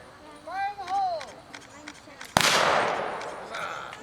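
A single sharp, loud shot from a .32 caliber black powder gun cracks out at an outdoor Renaissance festival, its blast trailing into a long noisy decay, preceded by a person's drawn-out shouted call.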